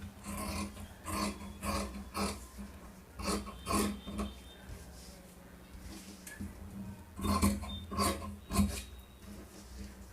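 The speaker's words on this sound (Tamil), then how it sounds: "சரிங்களா, இப்போ நம்ம கட் பண்ணிக்கலாம்." Blouse fabric being cut with tailoring scissors for a size 34 blouse, a series of close, rhythmic rasping snips and rubbing strokes with a brief pause midway, no talking.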